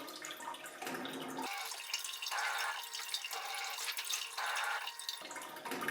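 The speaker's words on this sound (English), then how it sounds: "the nozzle will clean for 30 seconds and then return automatically" A Bio Bidet Aura A7 Special Edition elongated smart bidet nozzle rinsing itself in self-cleaning mode: a steady hiss of spraying water that swells in repeated surges, close and continuous, with no voices.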